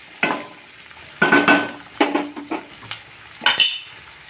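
Finely chopped capsicum cooking in a pan for pasta, heard as bursts of stirring and spatula scrapes against metal over a faint sizzle, close and fairly loud in uneven strokes.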